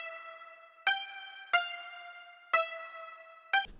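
A bright, high-pitched plucked Korg synthesizer preset, an octave above a sitar-like sound, strikes four notes in an uneven rhythm, each ringing out with a metallic buzz, quiet with no voices.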